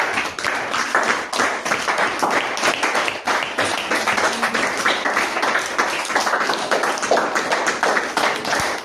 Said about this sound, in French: Applaudissons pour le Seigneur Jésus.